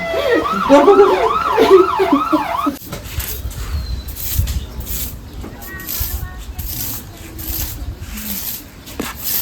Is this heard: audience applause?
no